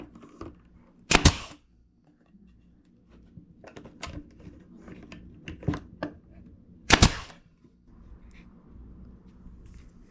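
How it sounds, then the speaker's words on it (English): Two sharp, loud pneumatic nail gun shots driving nails into wooden drawer pieces, spaced several seconds apart, with quieter handling knocks and shuffling between them. "I'm going to use a nail gun"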